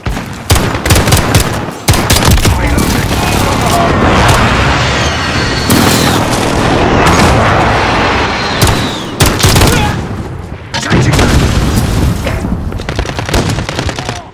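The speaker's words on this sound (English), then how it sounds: "friendly precision airstrike inbound" Loud, dense battle din from a Modern Warfare match, with rapid booms and blasts piling up almost continuously, briefly dropping out near the two- and nine-second marks, suggesting a precision airstrike's explosions amid heavy gunfire.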